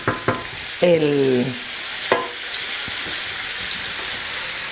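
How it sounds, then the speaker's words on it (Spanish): Sofrito for pig's trotters in sauce sizzles steadily in a pan, with a few sharp stirring scrapes and a brief spoken word near the start. "Vamos moviendo de vez en cuando y esperamos hasta que esté bien hecho el sofrito"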